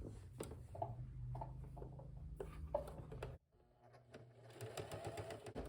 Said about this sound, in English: So I'm going to sew just at the edge.